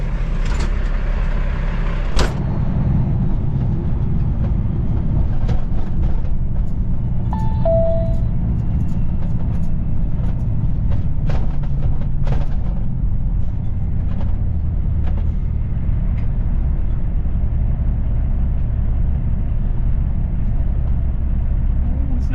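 Steady low rumble of a semi truck cruising on the road with a clean trailer behind, heard from inside the cab as a continuous drone with a few clicks and a brief thump near the start.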